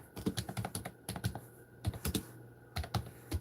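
Quick, close typing on a computer keyboard, a run of crisp key clicks in uneven bursts with short pauses, clear and alone in a quiet room.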